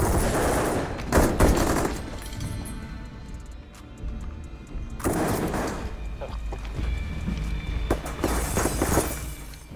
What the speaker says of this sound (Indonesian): Aksi baku tembak pun tak dapat terhindarkan